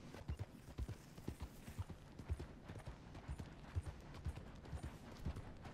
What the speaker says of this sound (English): We get to watch another horse driving scene.